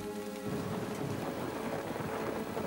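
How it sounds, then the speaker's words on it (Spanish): Heavy rain pours in a violent electrical thunderstorm, a dense constant roar of falling water with a low rumbling thunder undertone, loud and unbroken after a brief musical fade at the start. "se vio atrapado en una espectacular tormenta eléctrica"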